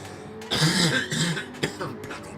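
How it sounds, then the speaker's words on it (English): A single rough cough from a race commentator at a Bathurst motor racing broadcast, close and brief, followed by a second short burst amid faint background noise. "Bloody cough."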